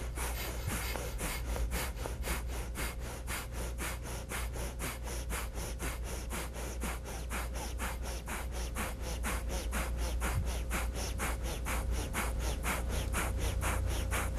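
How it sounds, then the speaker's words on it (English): Rapid yoga breath-of-fire breathing: sharp, forceful nostril exhalations snapped from the navel, repeating in a fast, steady rhythm of about three per second. The breaths are close and loud, continue without a break and have no talk over them. "So it's snapping the navel in and out, but breathing through the nostrils"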